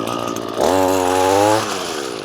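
An Echo PE 225 gas-powered lawn edger catches and runs, its small two-stroke engine buzzing loudly and steadily close by, then settling back to a rough idle.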